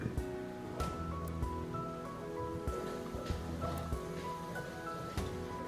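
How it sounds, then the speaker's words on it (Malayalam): Peanuts frying in hot oil for a Kerala-style potato mixture, giving a steady crackling, bubbling hiss with a few sharper pops, close and moderately loud, no talking. "ഇനി നമുക്കൊരല്പം കപ്പലണ്ടി കൂടെ വറുത്തെടുക്കാം"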